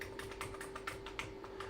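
Keys clatter in quick, uneven taps on a Commodore Plus/4 computer keyboard under repair, with a faulty return key; the typing is faint and close, with no one talking.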